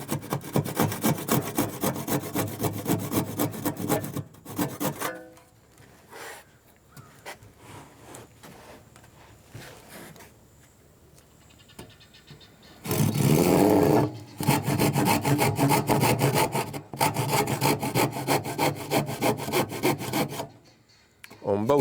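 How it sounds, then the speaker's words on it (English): Sawing a niche out of a wooden shoe rack panel by hand, with rapid rasping back-and-forth strokes in two long bursts separated by a quieter pause, close and loud with no talking. "We need to cut this little niche out right here."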